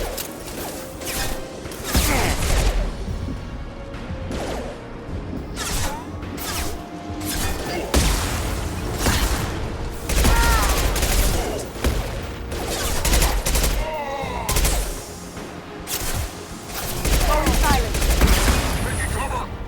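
A barrage of rocket fire and explosions in the video game Mass Effect 2: dense, repeated blasts, crashes and booms that continue loudly throughout, with occasional voices mixed in.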